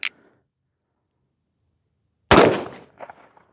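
A single loud, close gunshot from a Chiappa Rhino revolver fired single action, a sharp blast with a short ringing tail and faint echoes, preceded by a brief click.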